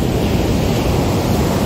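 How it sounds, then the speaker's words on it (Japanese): Sea waves wash loudly and continuously on a Japanese beach, forming a dense roar close to the microphone, with some wind buffeting and no talk. "本日は海に来ておりますので、 波がうるさいけど、"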